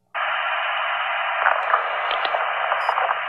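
A weak, unreadable radio transmission hisses with dense static, starting abruptly and holding steady with faint garbled crackles and bursts, no clear voice coming through.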